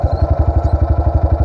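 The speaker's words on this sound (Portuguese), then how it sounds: "acelera de uma vez só" A Pro Tork TR100F mini motorcycle runs close and loud with a rapid, steady low engine pulse on a trail ride. The note holds fairly even instead of climbing sharply.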